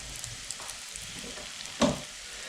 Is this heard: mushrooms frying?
yes